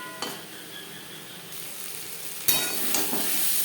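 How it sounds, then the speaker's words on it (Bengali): Vegetables and spices stirred and sautéed in a pan for jute leaf curry, sizzling steadily with a few sharper scraping strokes of stirring, close and alone. "মশলার সাথে সবজি কষাবার সুবিধার জন্য আরও 3-4 মিনিট রান্না করব।"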